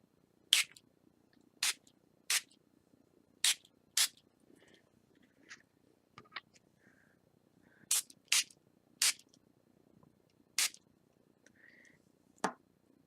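Short, sharp hissing spritzes from a small mister, about nine bursts in irregular clusters, separated by near-silence.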